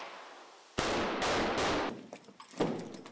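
Special forces soldiers raiding a building fire guns in a few loud, sharp bursts that echo, followed by a scattering of fainter shots and clatter.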